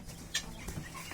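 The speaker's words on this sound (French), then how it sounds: "Voici les jeunes poules de 3 mois d'âge" Young three-month-old Brahma hens on an African farm give a couple of brief clucks over a steady background of farmyard noise, fairly close.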